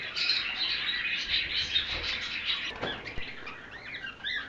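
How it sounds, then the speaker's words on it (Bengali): Cockatiels and budgerigars chirp at a busy bird market, a dense, steady chorus of high twittering and whistles from many birds close by, with no voices. "এখানে বেশ কিছু বাজরিগার আছে"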